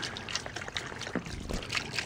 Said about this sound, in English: You can see water is just kind of freely flowing right around that valve.